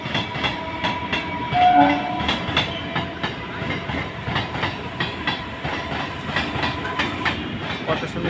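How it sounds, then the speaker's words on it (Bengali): A train rolls past nearby, loud rumbling with rhythmic clickety-clack of wheels over rail joints and a brief horn tone, sustained and heavy from start to end. "ট্রেন যাচ্ছে"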